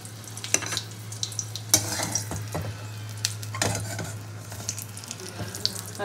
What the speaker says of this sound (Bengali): পটলগুলো ভাজা হয়ে গেছে, দেখুন পটল ভাজাটা কত সুন্দর হয়েছে